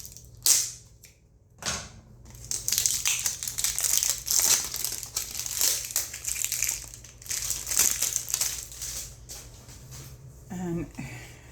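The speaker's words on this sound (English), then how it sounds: "let's go ahead and cut this plastic off" Plastic wrap crinkles and tears as it is cut away from a pocket-size tarot deck box, a close run of crackling rustles and snips with brief pauses, loud and busy through most of the stretch.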